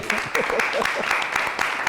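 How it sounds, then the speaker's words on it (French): An audience in Kigali applauds a guest, a professional makeup artist, at the close of a live talk session. The clapping is dense and steady for about two seconds, with voices mixed in. "J'aimerais qu'on applaudisse pour Yvan."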